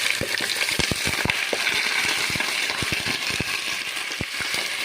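Chicken pieces browning in hot oil for Kuwaiti machboos, giving a steady close sizzle dotted with sharp crackles and pops throughout.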